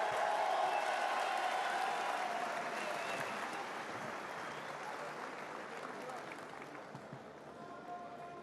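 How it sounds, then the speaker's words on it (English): Crowd applause for the Swiss team at a timbersports team world championship, a sustained arena-wide clapping that slowly tapers off, fairly distant and soft with scattered whoops and cheers. "vous pouvez encore applaudir l'équipe de Suisse"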